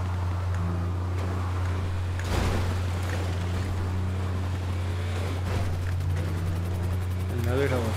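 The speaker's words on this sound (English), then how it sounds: "Another helicopter." A helicopter in GTA 5 Online sounds as a steady low rotor drone running loud and unbroken throughout, with voices talking over it and a brief burst of noise partway through.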